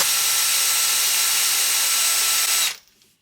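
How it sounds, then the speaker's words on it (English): A power drill runs steadily and close by as it bores into old oak on a 200-year-old cabinet, a continuous high whir that stops abruptly near the end. "So I'm going to drill this out"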